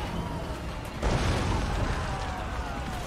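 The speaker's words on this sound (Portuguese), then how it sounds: "esse tiro foi bonito, velho" An artillery shot bursts in the Total War: Warhammer II battle during a fortress siege, a broad rumbling boom about a second in that sits over continuous dense battle noise.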